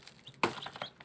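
Newly hatched chicks peeping in an incubator, several short high chirps scattered over a brief moment, close and fairly faint, with one louder peep standing out.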